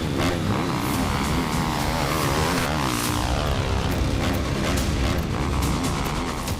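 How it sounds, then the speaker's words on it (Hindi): Several motorcycles roar in a war zone, a loud, continuous, steady engine drone with rising and falling pitch sweeps as they pass, and no voices over it. "वॉर जोन में अचानक गूंजती है कई मोटरसाइकिल की आवाज।"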